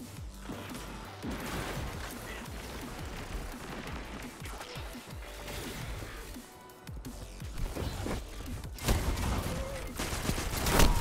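Shotgun fire in a video game battle: dense, chaotic blasts and impacts layered over busy combat noise, with a louder series of heavy bursts toward the end and no one speaking.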